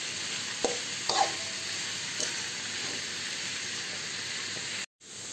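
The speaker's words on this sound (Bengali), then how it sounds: "কাঁঠালগুলোকেও আমি একটু কষিয়ে নেব।" Boiled jackfruit frying in a pan, a steady close hissing sizzle with a few brief stirring knocks, cutting out abruptly near the end before resuming.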